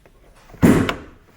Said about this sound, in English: Open the driver's side door.